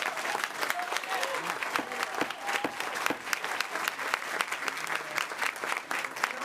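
Steady applause from an audience at a Wilson County Commission meeting, dense and even throughout with a murmuring crowd underneath.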